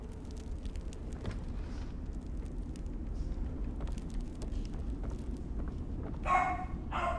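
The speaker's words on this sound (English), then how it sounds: "Oh, the dog's come back." A dog in The Evil Within video game barks and yips a few times at a moderate distance, short sharp calls over a low steady background rumble, with a louder burst near the end.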